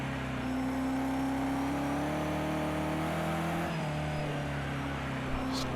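Racing car engine in the video game Project CARS 2, a steady loud drone with shifting pitch as the car flows through corners, continuous throughout with no talk.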